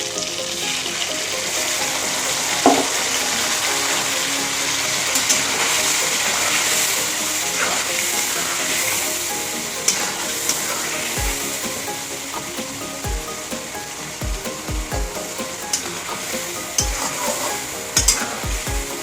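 Turmeric and ground spice paste frying in a pan, a continuous close sizzle with frequent stirring scrapes and spoon knocks growing more distinct toward the end.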